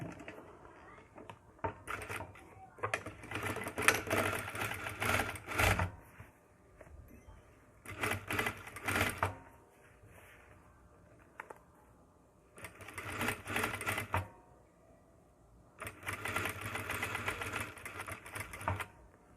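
A sewing machine stitches the sides of a tailored jacket in four rapid mechanical bursts, each lasting a few seconds with short quiet pauses between, close and fairly loud, without any talking.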